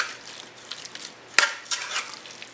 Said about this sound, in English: So we're just going to mix this around